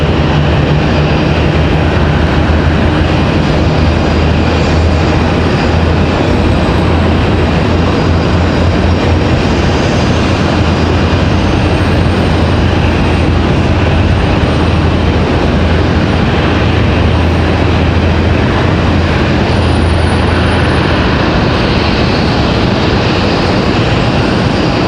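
Loud, constant roar of GE jet airliner engines at Raleigh-Durham International Airport, a deep rumbling drone with a broad hiss that stays steady and close throughout.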